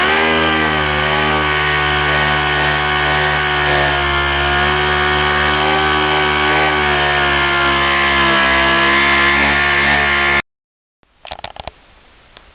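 A loud, steady, high-pitched power tool whine, as from a router or sander working wood edges, runs without a break for about ten seconds, then cuts off, leaving brief rattling.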